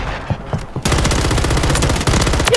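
Automatic rifle fire from an AK with a long barrel in Call of Duty Warzone, a sudden loud sustained burst of rapid shots, close and steady with one brief break, following a few quieter sounds at the start.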